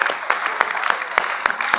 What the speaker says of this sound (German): Und wir klatschen mal mit.